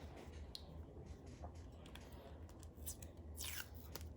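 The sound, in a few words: piece of tape being pulled off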